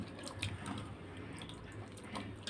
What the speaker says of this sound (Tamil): இப்போ நம்ம கழுவி எடுத்துக்கலாம். இப்போ இது கழுவும் போது கொஞ்சம் உப்பு போட்டுக்கலாம்.